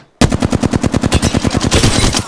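Rapid automatic gunfire in the battle royale game Apex Legends, a steady fast stream of about twenty loud, close shots with no pause.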